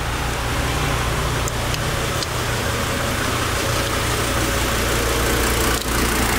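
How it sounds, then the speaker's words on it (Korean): A SsangYong New Korando van with about 105,000 km idles in good condition, its engine giving a loud, steady, unbroken rumble up close with slight vibration and no other sound. "엔진 소리"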